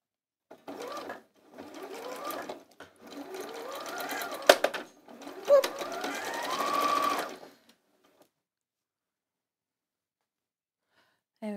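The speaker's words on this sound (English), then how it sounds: "the needle is going to literally do about a quarter of an inch seam" Sewing machine stitching a quarter-inch seam on skirt fabric, heard as several close bursts of rapid mechanical whirring and needle clatter with short pauses between, then silence.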